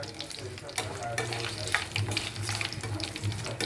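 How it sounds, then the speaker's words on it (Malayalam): Curry leaves and two or three chillies frying in hot oil for chilli beef dry fry, a close crackling sizzle with brief stirring scrapes and no talk. "ഇതിലേക്ക് പിന്നെ കുറച്ച് കറിവേപ്പിലയും 2-3 മുളകും ഇട്ട് കൊടുത്ത് വറുത്തെടുക്കാം"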